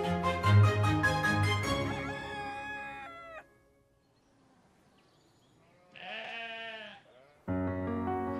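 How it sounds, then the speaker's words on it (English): Sheep on a 100-acre organic farm in the Dales bleat loudly and close up, with several drawn-out calls separated by a quiet pause. "At the heart of our 100-acre organic farm are sheep."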